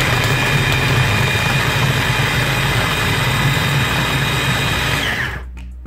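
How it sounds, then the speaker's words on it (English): A mini chopper whirs loudly and steadily, chopping onion, garlic, hot peppers and parsley, with a constant motor drone and a high whine that cuts off abruptly just before the end. "And we're now going to put this into the mini chopper."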